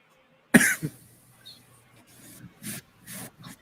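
Someone coughs after inhaling smoke from a hookah-like burner: one harsh burst followed by several smaller rasping coughs trailing off, close and without talk.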